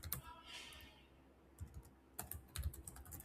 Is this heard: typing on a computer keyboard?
yes